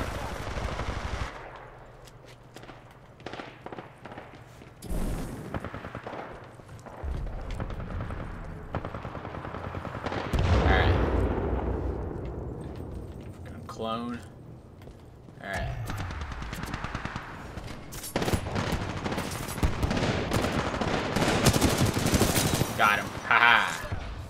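Bursts of automatic gunfire from a Titanfall 2 pilots-versus-pilots multiplayer match on the Drydock map, rapid rattling volleys recurring through the clip with game explosions and effects, a player talking over them.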